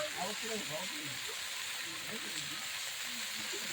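Leafy greens for sour shak sizzle in a pan as they are cooked and stirred, a steady close hiss of frying broken by soft scraping stir sounds and under a voice speaking.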